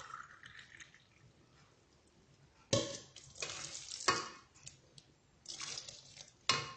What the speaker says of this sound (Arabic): اذا نخلط كل المقادير بالملعقه كما رانا نشوفوا.